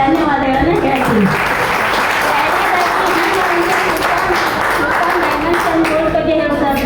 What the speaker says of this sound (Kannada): ಚಪ್ಪಾಳೆ ಮೂಲಕ ಅವರಿಗೆ ಧನ್ಯವಾದಗಳನ್ನು ಹೇಳ್ತೀನಿ